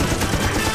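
Heavy machine gun fire in the Pokemon Unite video game: a rapid, continuous rattle of loud, tightly packed shots in one short burst.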